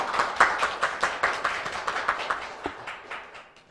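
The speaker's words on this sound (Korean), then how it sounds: "큰 박수로 맞아주시기 바랍니다." An audience claps in a hall to welcome a council member at a nurses' association general assembly and policy forum; steady, close applause lasting several seconds with no talking.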